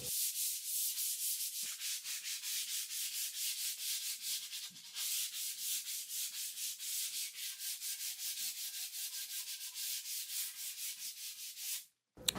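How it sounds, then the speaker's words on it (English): Steady rhythmic rasping of sandpaper rubbed back and forth over a wooden tabletop by hand, many quick even strokes, close and continuous, ending abruptly. "I actually gave it a really good hand sanding as well, just to smooth everything out"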